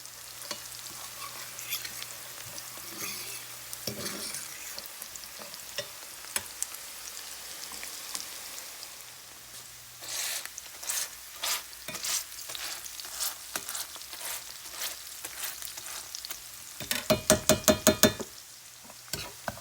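Onions frying in a pan for a dump-and-go crockpot recipe give a steady low sizzle broken by scattered stirring knocks, with a louder burst of scraping and clatter near the end.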